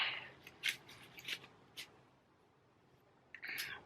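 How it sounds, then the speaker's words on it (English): A deck of cards being shuffled, heard as a few quiet, brief riffling and sliding bursts separated by near silence, ending with one longer flutter. "Give those a nice shuffle."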